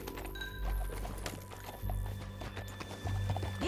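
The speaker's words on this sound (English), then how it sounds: "Back on your horse, let's get after them." Horses gallop in Red Dead Redemption 2, with rapid hooves clopping beneath a rumbling game soundscape and a neigh breaking through, moderately loud and steady throughout.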